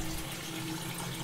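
Water poured steadily into a 5-litre pot to make sugar syrup, a faint continuous close-up splashing stream with no voices.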